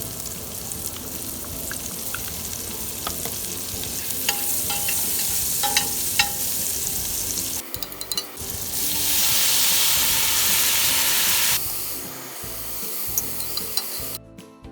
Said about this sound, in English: Then I'm going to fry the onions and the tomatoes.